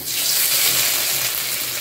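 Dried red chillies frying in hot mustard oil, a close, steady, bright sizzle that holds evenly throughout with no voices.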